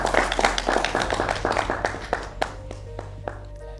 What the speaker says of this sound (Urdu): آپ کی بھرپور تالیوں میں وارث ایم پال صاحب